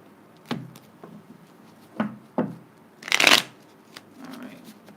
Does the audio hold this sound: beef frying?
no